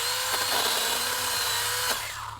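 A Stihl GTA26 cordless pruner cuts wood with a high, buzzing motor whine and two short cutting snaps, close and loud, with no speech.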